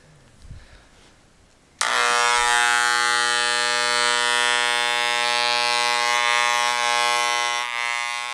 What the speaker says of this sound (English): We're gonna shave his head, alright?